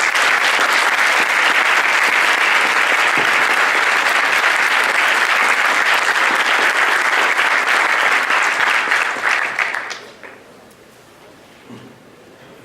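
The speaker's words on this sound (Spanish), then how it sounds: "Un aplauso, por favor." Sustained audience applause at a keynote lecture on national and Latin American sovereignty, loud and dense for about ten seconds before fading quickly into a quiet room with a few stray sounds.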